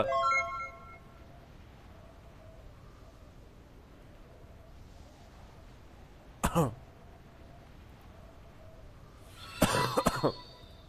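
Two short bursts of coughing, a single cough midway and a quick cluster near the end, over faint background hum with a brief tone at the start.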